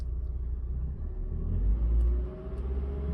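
A car engine idles with a low, close rumble, then swells briefly in a light rev before settling back down. No voices are heard.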